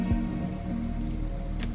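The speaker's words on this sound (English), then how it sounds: "is this like a weather front? Because rain is coming in?" Rain falls in the video game Endzone: A World Apart, a soft, steady patter of drops under a low hum, faint and continuous throughout with no talking.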